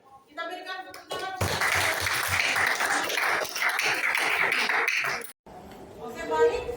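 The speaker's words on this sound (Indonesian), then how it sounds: "kita berikan tepuk tangan" A room of people claps steadily for several seconds in a school classroom session on bullying, the applause loud and continuous, with a speaking voice just before and after.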